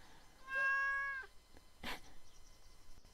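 A cat gives one clear, drawn-out meow up close, followed by faint rustling and a short noise burst in an otherwise quiet room.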